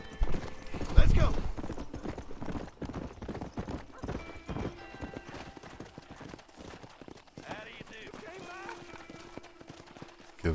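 Horse hooves clip-clop in Red Dead Redemption, a steady rhythmic trot with a horse whinny, under and between ongoing talk and game sound.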